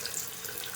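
Cold water running steadily from a leaky sink faucet, a continuous close hiss and splash with no pauses.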